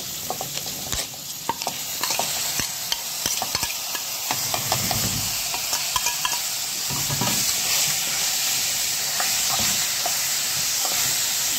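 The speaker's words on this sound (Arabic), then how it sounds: "زي ما انتم شايفين بعد ما نضيف نص الرز تاني اهو." Rice poured into a pot in an Egyptian home kitchen, followed by steady stirring and a soft, continuous sizzle of frying that carries on throughout.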